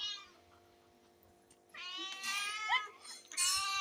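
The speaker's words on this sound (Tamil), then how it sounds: "அங்கே பூனை அடியிலேயே கடந்து கேட்டுக்கிட்டு இருக்கு" A cat meows several times in close succession, clear and fairly near, with drawn-out cries and a couple of shorter calls, in a quiet room with low background hum.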